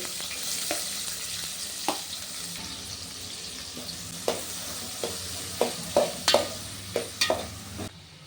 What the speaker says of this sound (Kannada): ಈಗ ಉಳ್ಳಾಗಡ್ಡಿನ ಹಾಕ್ಕೊಳ್ಳಿ ಫ್ರೆಂಡ್ಸ್ ಈರುಳ್ಳಿನ ಹಾಕ್ಕೊಳ್ಳಿ